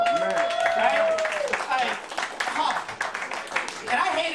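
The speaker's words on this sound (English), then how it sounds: "clap it up if you ever had a shitty boss" Comedy club crowd clapping and cheering in a loose burst of applause, loud and dense at first, then thinning into scattered claps and laughter, with talk mixed in.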